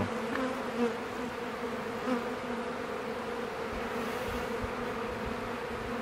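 A colony of honeybees buzzes on a hive frame that holds eggs and larvae, with the queen walking across it. The hum is a steady, close drone that holds at an even level throughout, with no voices.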